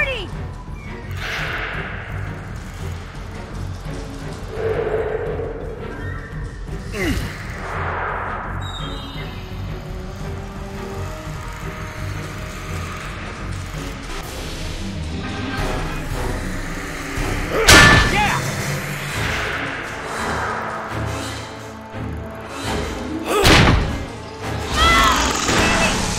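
In Jurassic Park: The Game, a heavy air tank smashes against a lock in a few loud, sharp metallic impacts late in the scene, set against tense game ambience and character dialogue.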